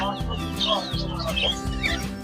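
Bantam hens and roosters cluck and call in overlapping bursts at a busy Maghi fair, with crowd chatter and background music running steadily underneath.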